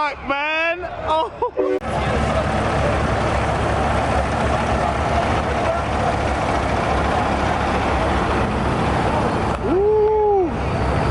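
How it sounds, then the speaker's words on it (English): Semi truck engine at a truck show, a loud, close, broadband roar that rises and holds steady, with a voice talking briefly before it starts and again near the end. "That's a truck, man."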